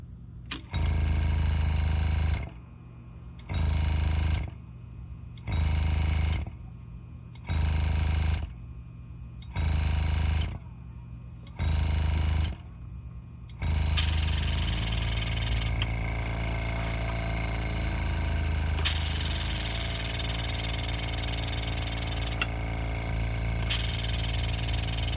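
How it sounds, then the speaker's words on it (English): An air compressor supplying a pneumatic jewelry engraving machine with two handpieces kicks on and off in steady one-second bursts, then settles into a continuous hissing run with occasional louder surges. "the air compressor, won't turn off for more than 1 second, because it's trying to stay at an equal PSI with the engraving machine."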